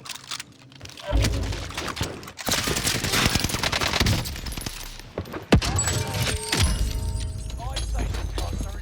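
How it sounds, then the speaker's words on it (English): Rapid gunfire bursts and a grenade blast with shattering debris ring out in a Rebirth Island match, loud and steady over several seconds, mixed with speech. "this player throws a nice frag grenade to stop me from pushing him"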